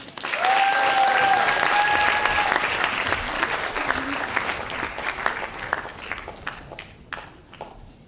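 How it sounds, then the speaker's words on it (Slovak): An audience at a student-day show applauds, a loud sustained burst of clapping that swells quickly, then thins gradually into scattered claps, with a brief whistle-like tone near the start. "Poprosím potlesk."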